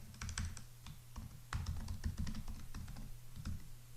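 Quiet, steady typing on a computer keyboard, a run of close key taps in an uneven rhythm over a few seconds, with no voices.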